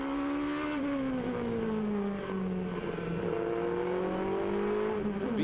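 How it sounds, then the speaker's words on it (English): GP2 race car from the Dave Price Racing team driving on the track in Spain, its engine a continuous droning whine that gradually drops and then climbs again, heard steadily in the background. "Christian Baccarou going off to the left there in the Dave Price racing car"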